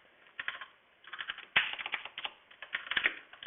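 Keys on a computer keyboard are typed in quick irregular bursts of clicks, close and fairly quiet, with short pauses between groups.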